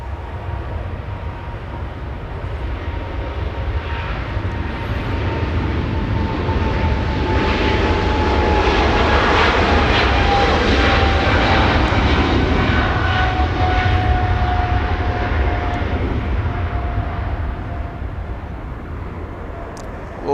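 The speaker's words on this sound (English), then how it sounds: "we get that 777 departure flying to Tokyo Narita" A Singapore Airlines Boeing 777 departing Los Angeles International for Tokyo Narita rolls past with a steady, broad jet roar that swells to a peak mid-pass and eases away, a faint whining tone drifting across it.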